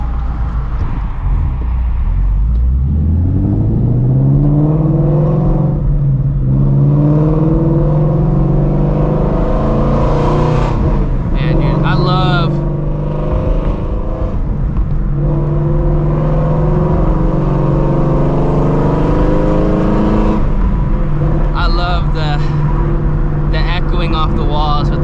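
Sunday morning road traffic: a car engine hums and shifts up and down, with tires rolling on pavement and other vehicles passing nearby, while someone talks over it.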